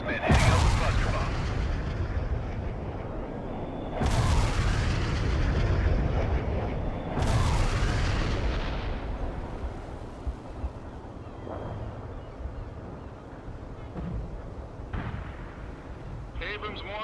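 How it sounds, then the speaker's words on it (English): Cluster bomb strike in the real-time strategy game World in Conflict, three heavy booming blasts a few seconds apart followed by long rumbling decay and scattered smaller impacts, with some game voices underneath. "Iceman heading out with cluster bomb."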